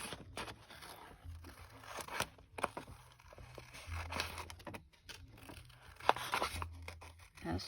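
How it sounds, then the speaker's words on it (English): Quiet, close snipping and paper rustling as scissors cut a paper umbrella drawing, with repeated soft crunchy cuts and crinkles. "Now all I have to do is cut that umbrella out."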